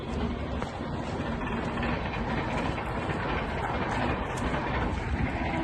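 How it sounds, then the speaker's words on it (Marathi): A train rolls past close by in the Konkan region, a loud continuous rumble with faint rhythmic clatter of wheels over the rails. "छोटी मोठी ट्रेन आली"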